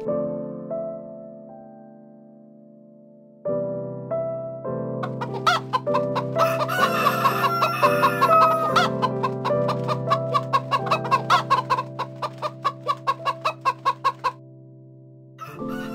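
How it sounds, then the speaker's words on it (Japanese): A rooster crows and chickens cluck in the morning at a rural village home in China. Drawn-out crows are followed by a run of rapid, rhythmic clucks, fairly close and with no talking. "朝は鶏の鳴き声が目覚まし"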